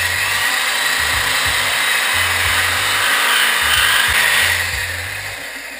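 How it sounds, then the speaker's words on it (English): A Sawzall reciprocating saw cuts through metal on an engine frame, its loud steady buzzing whine running continuously up close before easing slightly at the end. "Hopefully gonna try to use the Sawzall here to cut this."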